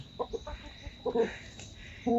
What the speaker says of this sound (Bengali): কত বড় বড় মুরগি দেখছেন